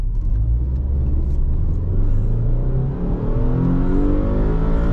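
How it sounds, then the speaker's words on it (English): A 2006 Subaru Legacy 2.0 wagon running on LPG, 165 hp, revs hard toward its limiter. The engine drone rises steadily in pitch and stays loud and close throughout with no voices. "7000 RPM! Oh, it does go right now. The rev limit there."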